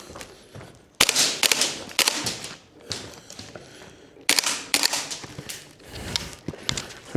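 Sharp snappy shots from a WellPro PPK-20 gas blowback airsoft pistol fired semi-auto, a dozen or so irregular cracks with clacking action, close and loud, no talking.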